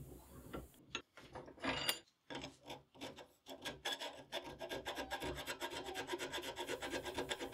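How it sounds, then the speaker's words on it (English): A metal beer tap is worked with roughing, semi-finishing and mill files, giving quiet close rasping strokes that start slow and irregular and then settle into a steady back-and-forth rhythm, with no voices. "To move material, I will start off with a roughing file. This is followed by a semi-finishing file and then by a mill file."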